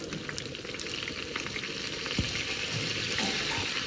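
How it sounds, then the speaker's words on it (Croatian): A spoonful of flour toasting in oil in the corner of a pan, a dense, even sizzle with light stirring, close and steady throughout. "i to brašno ću ovako propržiti"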